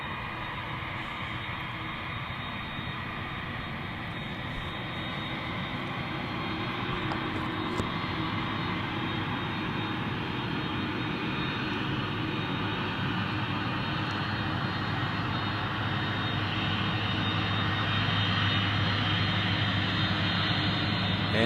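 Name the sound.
Airbus A300 aircraft engines at Memphis cargo airport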